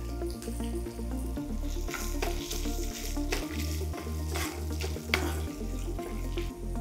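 Green chillies and dried red chillies crackle and sizzle in hot oil as a tempering for pulihora, a steady frying hiss with a low hum running underneath and no voices.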